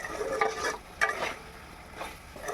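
Amla pickle is stirred in a frying pan, soft sizzling broken by a few scraping strokes of the spoon, close and fairly quiet.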